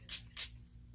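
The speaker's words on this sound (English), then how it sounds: "I'm going to use the Peach Matte Setting Spray" Two quick spritzes of Peach Matte setting spray, short close hissing bursts a fraction of a second apart, then quiet.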